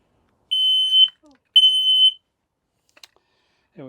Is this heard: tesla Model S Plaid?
no